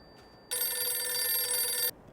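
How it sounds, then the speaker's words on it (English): A phone rings in Farming Simulator 22: one steady electronic trill lasting about a second and a half, starting and stopping abruptly, loud and close, with near silence around it. "oh, hey, phone's ringing"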